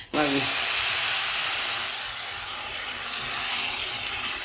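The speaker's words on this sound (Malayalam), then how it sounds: "ഇനി നമുക്ക് വെള്ളം ചേർത്ത് കൊടുക്കാം" Water poured into a hot pan of roasted broken wheat bursts into a loud, steady sizzling hiss right after a brief splash, holding strong and close for several seconds and easing only slightly.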